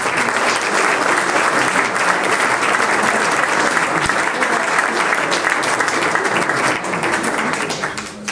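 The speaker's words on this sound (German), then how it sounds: "Bitte Applaus." Audience applause at a sports award ceremony honoring Hanau's Sportsman of the Year 2015, a sustained, dense crowd clapping at even volume for about eight seconds before fading slightly at the end, with no voices over it.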